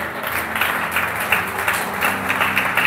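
A church congregation applauds steadily in praise of the Lord, a dense, even wash of clapping with no clear voices on top.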